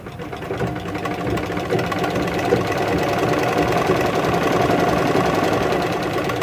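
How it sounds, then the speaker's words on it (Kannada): A sewing machine stitching a blouse runs continuously at steady speed, a loud, close mechanical whirr with rapid regular needle clatter throughout. "ಆದ್ದರಿಂದ 2 ಹೊಲಿಗೆ ಹಾಕ್ಬಿಡ್ತೀನಿ ಒಟ್ಟಿಗೆ."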